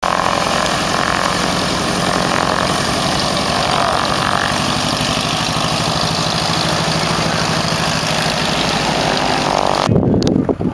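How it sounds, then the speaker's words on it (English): A light sport propeller aircraft, a U.S. Army PT-22, at a summer fly-in at Sierra Sky Park, its engine drone steady and loud for about ten seconds before cutting off abruptly. "A little light sport aircraft."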